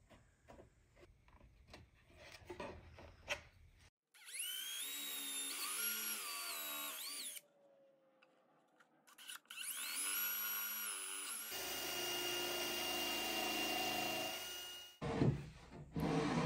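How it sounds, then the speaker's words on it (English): A power drill pre-drills and countersinks holes from inside a walnut drawer box through its front. The whining bursts run in two long passes with a quiet gap between them, and tool handling clatters before and after. "pre-drilling and countersinking holes from the inside of the drawer box through the front"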